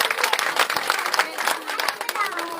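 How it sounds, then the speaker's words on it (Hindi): A seated audience at an International Women's Day gathering applauds a guest with brisk, continuous clapping throughout, steady and moderately close, with a murmur of voices mixed in. "जोरदार तालियों से स्वागत करें अनीता नाथ जी का।"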